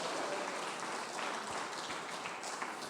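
A church congregation claps together in a continuous, fairly soft patter of applause during a worship service, with no talking over it.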